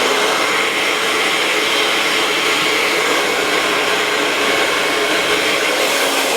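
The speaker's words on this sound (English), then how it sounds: "I'm going to turn the dryer on" A hair dryer blowing steadily at a salon haircut and styling session, a loud, continuous airy roar with no pauses and no voices over it.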